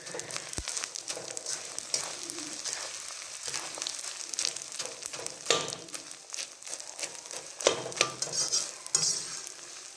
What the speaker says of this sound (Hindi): थोड़ा धीमी आंच में तलता रहता हूँ जिससे सब अलग अलग हो जाएंगे खुल के।